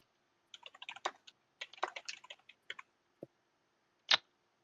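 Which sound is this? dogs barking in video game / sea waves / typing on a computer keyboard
typing on a computer keyboard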